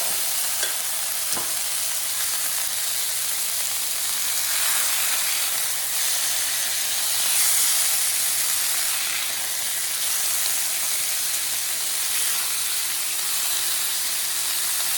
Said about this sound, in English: Now I'm going to sear it on both sides